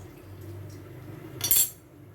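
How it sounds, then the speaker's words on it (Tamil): Metal lid set down on a cooking pot of Kerala-style fish rice, a single short clink near the end over a low background hum. "மூடி வச்சிடறேன், வேகட்டும்."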